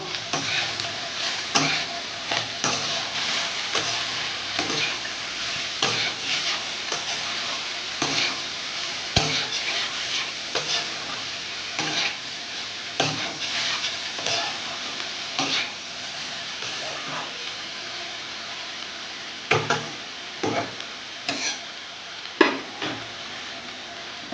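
Vegetables for a prawn and banana-flower curry fry in a pan under a low, continuous sizzle, broken by repeated sharp scrapes and clicks of stirring at irregular intervals.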